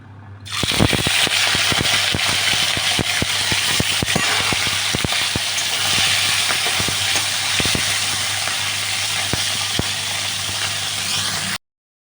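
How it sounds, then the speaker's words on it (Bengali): Hilsa fish fry in white oil in a wok, a loud continuous hiss and crackle with dense popping spatters throughout, steady and close, no voices. "এই কড়াইতে সাদা তেল দিয়ে দিচ্ছি মাছগুলো ভাজবো"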